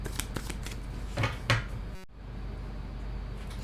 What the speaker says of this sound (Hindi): मैं थोड़ा और शफल यहाँ पर करना चाहूँगी।